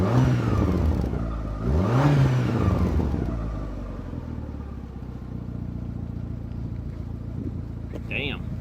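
Turbocharged car engine revving through a newly fitted, well-muffled exhaust after an intercooler and exhaust build, a smooth rising and falling drone with one swell near the start, steady underneath and close by.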